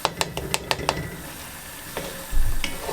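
Chard and spinach with rashidio fry in a pan over a medium-high flame, a sharp stirring clatter opening the moment before a steady low sizzle settles in, with a few more knocks and a soft thump near the end.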